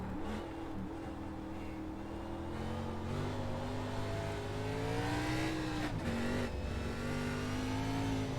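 A NASCAR Cup car in iRacing on the Daytona Road Course drones with a steady engine tone, then stutters and wavers briefly around the middle as the wheels hop, before the engine note climbs again.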